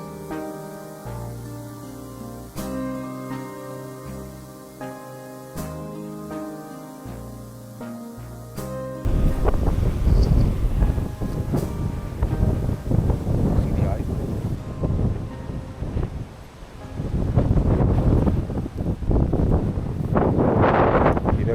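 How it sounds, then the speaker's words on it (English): Gusty wind buffets the microphone in a graveyard at sunrise, heavy rumbling bursts after a brief stretch of quieter sound, roaring loudly and unevenly to the end. "But it's so windy, guys."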